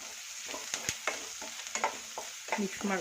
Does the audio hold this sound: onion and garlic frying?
yes